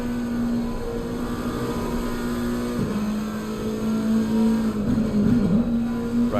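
McLaren race car onboard at Bathurst in Assetto Corsa Competizione, engine holding a steady loud drone with shifting pitch and brief dips around gear changes, continuous throughout with no talk.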